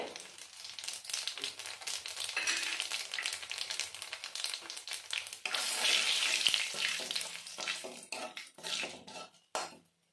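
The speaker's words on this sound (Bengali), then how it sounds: "এবার ওই তেলে ফোড়ন দিয়ে দেবো। দিয়ে দেবো একটা শুকনো লঙ্কা, কালো জিরে," Dry red chilli and nigella seeds sizzle and crackle in hot oil while being tempered for rui posto. The frying is close and busy, with stirring and light clinks of a utensil against the pan.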